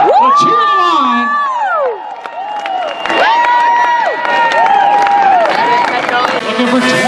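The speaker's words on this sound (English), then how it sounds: "So cheer them on." A crowd at a derby race track cheers and whoops loudly and steadily throughout, while an announcer's amplified voice calls out over the noise.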